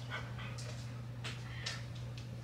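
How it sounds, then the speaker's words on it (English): Dogs whimpering and yipping indoors, several short high-pitched whines and yelps scattered over a steady low electrical hum, fairly close. "let me include my dogs"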